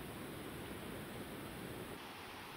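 Ryuzu Falls in Oku-Nikko roars as a steady, broad rushing wash of falling water, continuous and even throughout with no voices.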